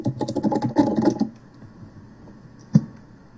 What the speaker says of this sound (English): Ah, random typing.